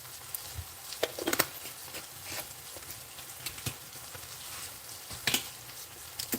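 Minced garlic going into a pan with chicken and cabbage, heard as soft frying hiss broken by scattered taps and clicks of utensils against the pan, fairly quiet and close.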